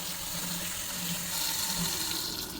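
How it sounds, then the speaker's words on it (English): A faucet runs at a steady, moderate stream into a sink, with continuous splashing and no pauses. "Leave the water running kind of low."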